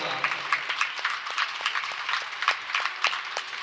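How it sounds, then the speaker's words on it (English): A gym crowd at an alumni volleyball game applauds an arriving former player, with scattered, fairly quiet clapping that continues steadily throughout. "Big round of applause for Kendall Klopp"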